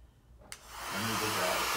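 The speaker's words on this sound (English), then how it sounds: "I'm going to dry mine a little because we need lots of layers." A hair dryer switches on with a click and runs with a steady, close whoosh, drying acrylic paint on a black canvas.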